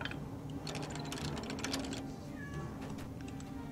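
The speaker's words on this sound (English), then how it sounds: "I'm just curious which cat I hear meowing." A cat meows faintly and briefly, partway through, against a quiet background of keyboard typing and clicking.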